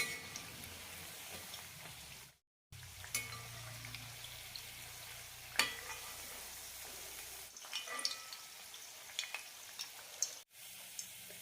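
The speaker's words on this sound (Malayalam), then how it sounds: "ബാക്കിയുള്ളത് കൂടി ഫ്രൈ ചെയ്തെടുക്കാം" Beetroot vada frying in hot oil, a soft continuous sizzle with occasional clinks and stirring touches, fairly quiet, with brief pauses where the sound drops out.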